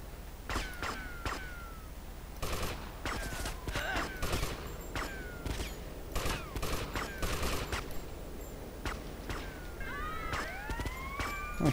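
A police siren in the video game GTA Vice City rises and falls late in the clip, following bursts of rapid gunfire and sharp shots, all fairly quiet.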